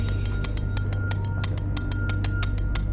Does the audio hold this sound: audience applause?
no